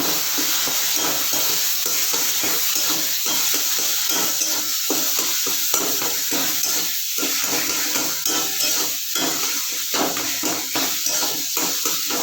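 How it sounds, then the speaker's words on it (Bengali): Ginger and greens (taro leaves) sautéing in a pan, with a steady sizzle, broad hiss and repeated scraping strokes of a spatula stirring throughout, close and fairly loud. "একটুখানি ভালো করে কষিয়ে নিচ্ছি"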